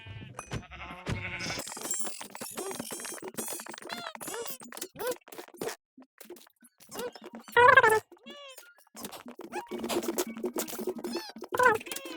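Several sheep bleats in a video game rise in short bursts over game-like effects and background chatter, with one louder bleat standing out near the middle.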